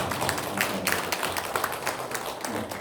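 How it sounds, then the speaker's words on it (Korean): A church congregation claps to welcome a new member at a Sunday worship service, a steady spread of hand claps filling the room for a few seconds. "우리 한번 박수하겠습니다."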